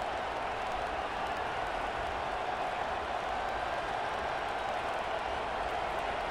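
A stadium crowd roars continuously in a College Football 25 game, a dense, steady wash of cheering and noise with no breaks, and a commentator's voice faintly underneath.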